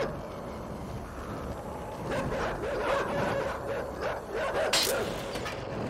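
Dogs in the video game Inside bark and yip in a tense scene, several sharp calls rising over a rumbling background and gaining intensity toward the end.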